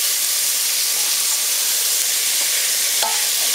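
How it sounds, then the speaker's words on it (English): Stewed tomatoes are stirred in a hot pan with a steady loud sizzling hiss throughout and a brief utensil scrape near the end, close up and with no talking. "Now we just mix it."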